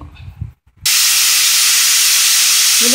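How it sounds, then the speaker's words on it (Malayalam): After a brief clatter, a pressure cooker cooking sambar vegetables bursts into a loud, continuous hissing blast of escaping steam that holds steady to the end. "രണ്ട് വിസിൽ കേട്ടാൽ മതി കൂടുതൽ വിസിൽ കേട്ടാൽ പച്ചക്കറി വെന്തു പോകും"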